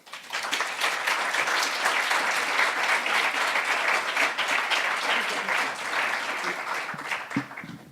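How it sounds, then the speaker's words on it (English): Sustained audience applause for a leadership academy alumni panel, steady broadband clapping from a full room lasting the whole stretch, fading slightly near the end. "Let's give our panelists one more round of applause."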